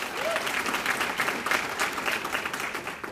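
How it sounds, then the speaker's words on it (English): Audience at a women's housing initiative event applauding Citizen Action, a steady round of clapping from a mid-sized crowd lasting about three seconds and fading slightly at the end. "So let's give a round of applause to Citizen Action for everything they do."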